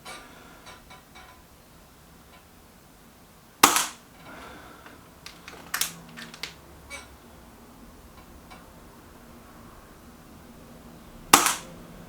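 Reximex Mito S air rifle firing: two sharp, crisp shots about eight seconds apart, close and dry, with faint clicks and handling noises of the rifle between them.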